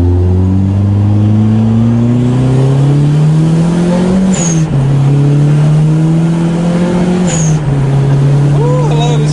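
A turbocharged Mazda Miata accelerates hard from inside the cabin, its engine droning up through the gears with two shift breaks, loud and steady, while people talk over it.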